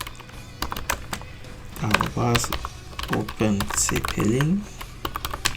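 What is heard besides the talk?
typing a command on a computer keyboard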